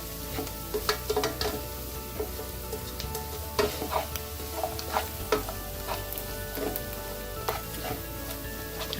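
A handful of leaves sizzles and wilts in a hot cooked paste for ghee rice, giving a steady close frying hiss with scattered crackles and pops, plus occasional stirring clatter.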